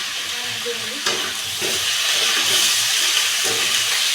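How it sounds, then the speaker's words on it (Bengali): Vegetables with turmeric, salt and green chillies sizzle in a hot pan while being stirred, giving a loud, continuous frying hiss with soft scraping and knocks of the spoon. "বেশ ভালো করে নেড়ে চেড়ে"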